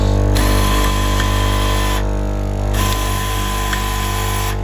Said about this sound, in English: Fully depressing this down will activate the sharpening system and sharpen the blade.